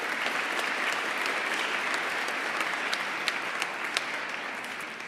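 Steady, sustained applause fills a commencement hall as the crowd honors graduates of the Environmental Science program, a dense wash of clapping with a few sharper claps standing out throughout.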